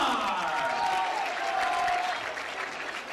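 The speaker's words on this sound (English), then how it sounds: "Let us welcome with a big round of applause, Mr. Richard Dion Villar!" An audience at a touring show claps warmly to welcome a chairman of the judges, steady applause that eases off slightly near the end.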